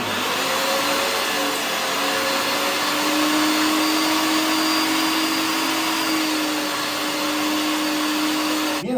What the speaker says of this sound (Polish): części łopatki mielę na sitku 8 minut